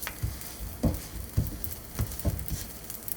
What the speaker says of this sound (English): You hear that nice little sizzling going on.